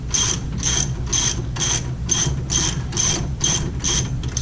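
A ratchet wrench lightly snugs lug nuts onto the wheel hub studs of a 2014 Ford Explorer, giving a close, steady run of about nine evenly spaced clicks.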